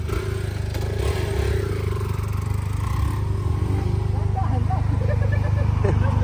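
A motorcycle engine idles steadily and loudly up close, a constant throbbing hum with light clattering, while people talk over it.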